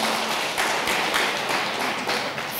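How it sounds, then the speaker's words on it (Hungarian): Steady applause from a music-school student concert audience, even clapping for two young first-year pupils, moderately loud and continuous with no voices. "még egy nagy tapsot a két kis elsősnek"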